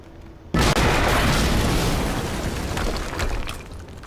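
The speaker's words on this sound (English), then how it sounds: "HQ, we just heard an explosion near the harvesting perimeter." A sudden loud explosion in the action shooter Quantum Break bursts in after a short quiet lead-in, then a dense roaring rumble and debris noise that slowly fades over several seconds.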